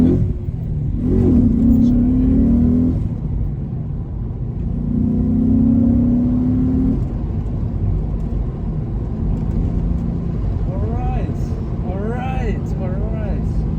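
Audi B7 RS4 Avant with a V8 engine revving, deep rumbling bursts that rise and fall twice, close and loud, followed by idling while people talk excitedly over it.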